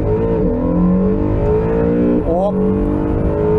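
Honda NSX supercar launching hard from a standstill in launch mode, its engine roaring loud and close with a steady rising drone and a sharp shift dip partway through; a voice briefly exclaims over it.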